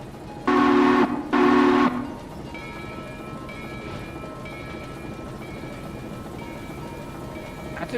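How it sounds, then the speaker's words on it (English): A heavy freight train in the Railroader game sounds two loud whistle blasts, followed by steady, quieter wheel and rail rumble with a faint ringing tone as it rolls past. "That's a train that got a lot shorter, but it's not really any less heavy."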